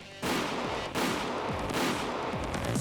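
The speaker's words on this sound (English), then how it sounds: "There's a delay between the impact and the sound of a gunshot." Gunfire from the visual novel game Higurashi When They Cry: loud, close, sharp reports that fire in quick succession, each one followed by a short decaying echo, with no voices heard.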